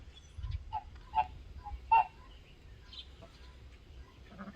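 Ducks at a small backyard pond give a few short, fairly faint quacking calls spaced a second or so apart over a low, steady background rumble.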